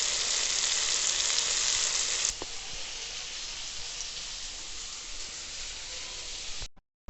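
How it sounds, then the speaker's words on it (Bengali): Eggplant slices frying in oil in a pan in a home kitchen give off a steady, close sizzle that softens after a couple of seconds, then holds at a gentler crackle before cutting off abruptly. "এইদিকে আমি এই যে তেল বেগুনটাও বসিয়ে দিয়েছি, তেল বেগুনটা হচ্ছে"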